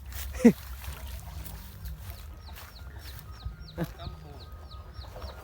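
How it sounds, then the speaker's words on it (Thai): A chicken gives a sharp squawk, followed by scattered soft clucks and a faint repeating chirp over quiet farmyard background. "มีเป็ดมีไก่นะ"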